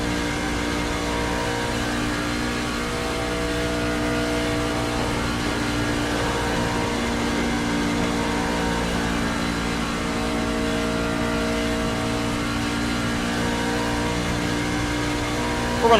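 NASCAR race truck engine droning steadily during practice laps at Las Vegas, a sustained, even mechanical tone with slight pitch shifts that holds for the whole stretch, with no talking.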